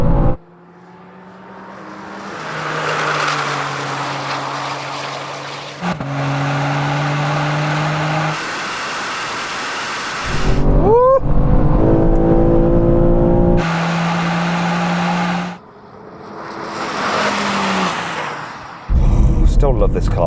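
A tuned Manhart BMW engine revs and pulls hard through several gear changes in a drag race from 80 km/h, pitch climbing and dropping repeatedly, with brief voices and wind noise mixed in.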